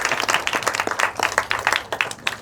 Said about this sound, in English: Clap again for them.